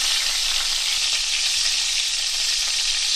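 Fried mackerel sizzles steadily in a hot pan, a dense, even crackle of oil that stays loud and close for the whole stretch with no voices.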